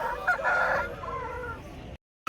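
A rooster crows loudly and up close at a busy Friday chicken market in Gudur, Andhra Pradesh, where aseel fowl are sold. The crow lasts nearly two seconds, then cuts off abruptly.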